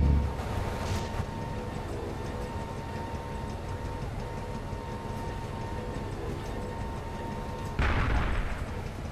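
A tank fires its main gun in a tactical military video game: one heavy boom at the start and another near the end, over steady low rumbling battlefield noise.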